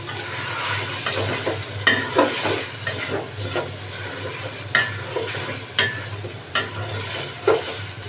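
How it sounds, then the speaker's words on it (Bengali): Milk added to mutton cooking for biryani, with a steady low sizzle under repeated scraping stirs of a spoon against the pot, several distinct strokes spread evenly through the stretch. "এর মধ্যে আমি দুধ দিয়ে দিচ্ছি"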